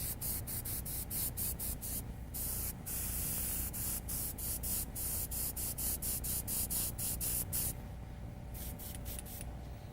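Airbrush spraying transparent red paint, a steady close hiss broken by many short on-off bursts as the trigger is pulsed while darkening an edge on an animal painting.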